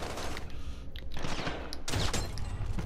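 Ram 7 assault rifle fire in Warzone, sustained bursts of rapid shots, with a heavier volley near the end.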